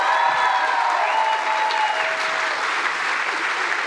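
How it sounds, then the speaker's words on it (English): Conference audience applauds a speaker after a talk, a dense sustained clapping from a large crowd, loud and steady throughout. "Give a big applause for Becky."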